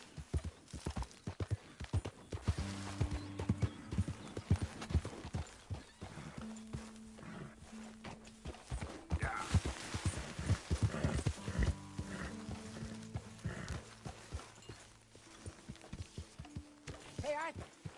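A horse in a video game walks along with a steady clip-clop of hooves and occasional snorts and whinnies, while characters speak over the hoofbeats at intervals.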